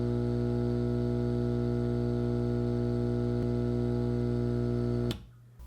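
A Laguna diaphragm air pump runs on its own with no tubing attached, giving off a loud, steady low hum with strong buzzy harmonics for about five seconds before it cuts off.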